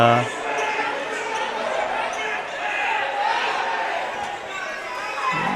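A basketball bounces amid a busy arena crowd murmur, the thuds blending into continuous chatter and court noise.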